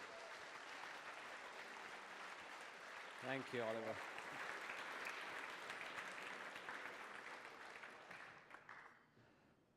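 A conference audience gives sustained applause and cheers as the presenter takes the stage. The clapping is loud and broad and fades toward the end, and someone briefly speaks over it.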